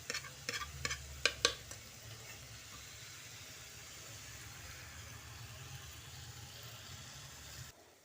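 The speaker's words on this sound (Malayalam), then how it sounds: "നല്ലോണം ഒന്ന് ഇളക്കി കൊടുക്കണം കേട്ടോ" A spoon scrapes and taps in a pan of jackfruit seed and drumstick leaf curry, with a few sharp clinks early on and then a soft, steady sizzle running underneath.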